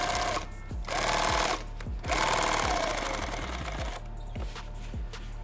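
A sewing machine stitches a hemline on a Thermacell pouch, running in two near, loud, rapid bursts with a short pause between them before slowing into faint, scattered clicks.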